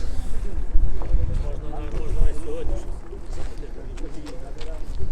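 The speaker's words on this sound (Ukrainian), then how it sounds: "дуже сильний вітер, погана погода, тому можливо буде мене погано чути" Strong gusty wind buffets the microphone at an outdoor used-car market in Lviv, a heavy low rumble that swells and eases continuously for the whole stretch.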